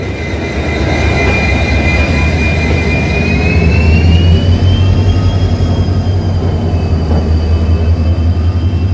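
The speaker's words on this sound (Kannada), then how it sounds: "ಇಂಜಿನ್ನು ಬ್ಯಾಕ್ ಸೈಡಿಂದ ಹೋಗ್ತಾ ಇದೆ, ಇದು ಉಲ್ಟಾ ಹೋಗ್ತಾ ಇದೆ ಇದು." A train being pushed by its locomotive from the rear end rolls along with a loud, steady rumble of wheels and engine, with a drawn-out metallic whine rising and falling throughout.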